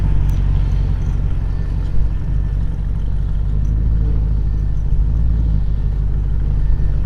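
A 1940 Ford Deluxe convertible resto-rod with a fuel-injected LS7 7.0L V8 idles close by outdoors, a loud, steady low rumble with slight rhythmic lope and no talking.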